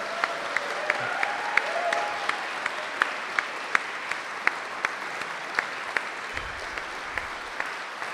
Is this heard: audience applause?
yes